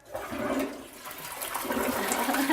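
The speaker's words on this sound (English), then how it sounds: "is Greywater that is flushing that toilet" Toilet flushing with recycled greywater from tubs in a backyard home setup, a steady close rushing and gurgling of water swirling down the bowl, alone without voices.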